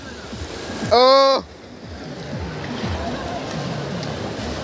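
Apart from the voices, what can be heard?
sea waves breaking on Digha beach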